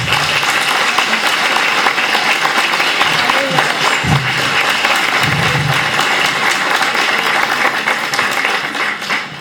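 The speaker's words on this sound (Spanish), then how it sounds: "Vamos a pedir un aplauso para Rubén." An audience at a book presentation applauds warmly for a guest, a dense, steady round of clapping filling the room.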